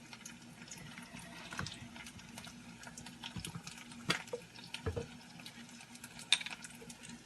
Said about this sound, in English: I have some vegetable broth, and I am going to be putting some vegetable broth in here.